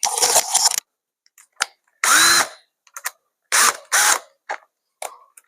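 A power drill with a steel bit works into a marked spot, running in a series of short, separate bursts of varying length with brief silences between, close and fairly loud.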